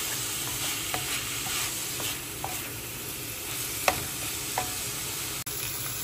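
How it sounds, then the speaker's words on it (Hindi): Onions sautéing in a pan: a continuous close sizzle broken by scattered light taps and scrapes of a spoon stirring, and one sharper clack partway through. "अच्छे से भूंजें। ये आपने 3 से 4 मिनट तक भूंजना है जब तक आपको ये थोड़े गोल्डन कलर के ना दिखाई दें।"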